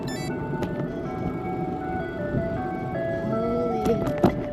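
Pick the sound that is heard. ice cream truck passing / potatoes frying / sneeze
ice cream truck passing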